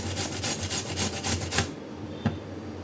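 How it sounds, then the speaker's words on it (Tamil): Vegetables grated by hand for a pandan green peas pulao, a quick rhythmic rasping scrape repeated about a dozen times, then stopping with one last faint scratch, close and clear without speech. "அதே போல் எல்லாத்தையும் துருவி எடுத்துடலாம்"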